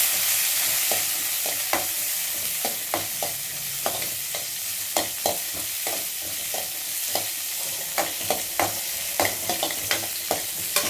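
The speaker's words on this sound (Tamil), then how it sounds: "அதை போட்டு நல்லா வதக்கி எடுத்துக்கலாம்." Chopped green chili and ginger sautéing in hot oil, a steady close sizzle punctuated by frequent sharp clacks of a spatula against the pan in an uneven stirring rhythm.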